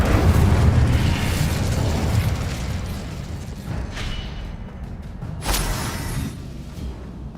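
An Incendio fire spell goes off in the video game Hogwarts Legacy as a loud roaring, whooshing blast that sustains and fades, with a second burst flaring near the end and no talk.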